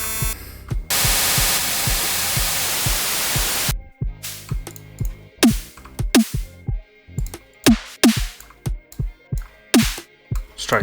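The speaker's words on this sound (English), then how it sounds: "Same with the white noise." Synthesized snare hits built with free plug-ins, layered with a bright white-noise hiss. A long sustained burst of noise gives way to a rapid series of sharp, punchy repeated hits, each with a noisy tail.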